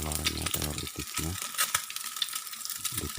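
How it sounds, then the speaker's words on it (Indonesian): A duck egg fries in oil in a pan over a moderate flame, hissing and crackling steadily up close, with a brief voice-like sound and a few clatters near the start. "ini kita goreng dulu telur itiknya"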